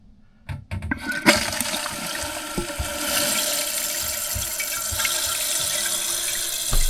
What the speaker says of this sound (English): Water valve is on. You can see the water coming through here.